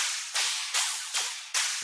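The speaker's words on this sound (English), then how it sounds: "Then we have one more VR hype loop." A VR hype loop sample for a drop mix fires four sharp, noisy whip-like bursts at an even pace, each snapping in bright and fading quickly before the next.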